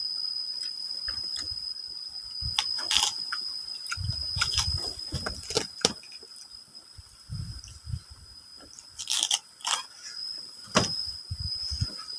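Someone eating crunchy coconut, with irregular close bites and crunches in scattered bursts over a quiet background and a faint steady high hum, no talking.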